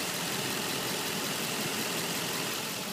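A 2005 Nissan Titan LE 4x4 pickup's engine idles steadily, a constant broadband hum and rumble that holds even throughout with no revving.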